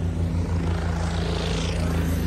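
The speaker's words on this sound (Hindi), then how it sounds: "हेलीकॉप्टर एक के बाद एक आ रहे जा रहे आ रहे जा रहे।" A steady, loud helicopter rotor drone with a low, pulsing beat holds throughout, close by at the Kedarnath helipad.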